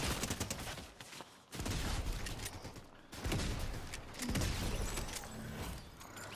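Rapid bursts of gunfire in Fortnite fill the frame loud and dense, broken by two short lulls, with battle clatter and mechanical clicks in between.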